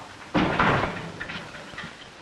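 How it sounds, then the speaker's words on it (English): A door in an old 1942 Western film bangs shut once, a short thud followed by faint room rustle. "Shut the door, Tom."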